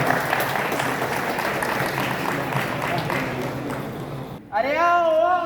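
Audience applause for a street play team at a zero waste campus event, a dense sustained wash of clapping lasting several seconds before a voice cuts in near the end.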